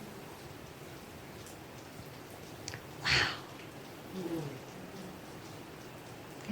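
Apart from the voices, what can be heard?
rain falling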